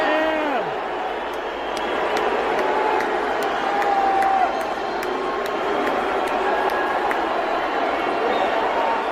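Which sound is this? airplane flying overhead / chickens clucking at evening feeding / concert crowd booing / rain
concert crowd booing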